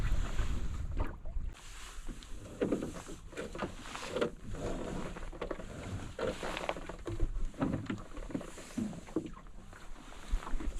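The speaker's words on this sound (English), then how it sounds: "the wind is blowing from there" Steady wind buffets the microphone while sailing a canoe along the coast from Gålö toward Huvudskär, with a continuous rushing roar and faint water and boat noises underneath.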